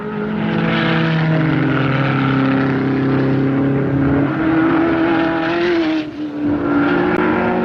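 Porsche team racing cars and other entrants at the 1969 Sebring 12 Hours hold a loud, sustained, droning engine roar on the airport circuit. The pitch rises and falls slightly as the cars pass, and a brief dip comes near the end.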